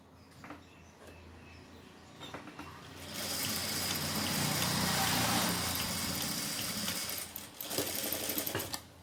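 An electric sewing machine stitches elastic onto shorts in a tailoring class, with scattered handling clicks before a loud, steady whirring run of several seconds, then short stuttering bursts as it slows.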